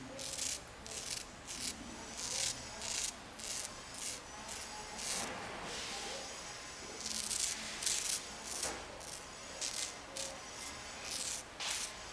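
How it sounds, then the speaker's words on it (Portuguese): A razor blade shaves the hair on a client's head, a close, soft scraping rasp repeated in short strokes over a steady low background hiss. "com a lâmina você vai raspando, olha só, sempre na direção do crescimento do pelo"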